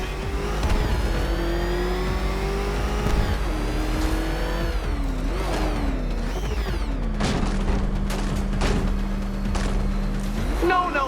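A car engine in Batman: Arkham Knight revs and surges continuously, pitch climbing and dropping through gear shifts, with thuds and a tire squeal along the way.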